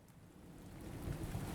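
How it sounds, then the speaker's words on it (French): Rain and wind in a storm, a steady wash of rainfall with a low rumble that swells toward the end, moderately quiet with no voices. "Et vu le vent, le bruit de la pluie, le bruit des débris"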